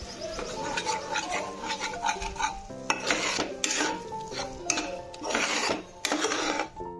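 Spice paste with nigella seeds being stirred in hot oil, close clinking and scraping of a utensil against the pan in irregular strokes, with a light sizzle underneath and no voices.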